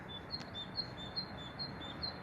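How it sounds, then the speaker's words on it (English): A great tit repeats its two-note song, a faint, high, steady rhythmic call over quiet background hiss. "That really strong 2-note one's a great tit."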